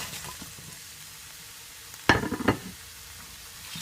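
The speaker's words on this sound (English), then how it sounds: "So now I'm gonna add all of my fried pork to it." Fried pork hits a pan of sautéed vegetables for sweet and sour pork, producing a sudden loud burst of sizzling and clattering that flares twice and then settles back to a low, steady frying hiss.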